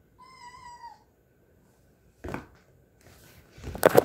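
An indoor cat gives a short, thin meow, followed by scattered rustling and bumping noises, fairly quiet overall.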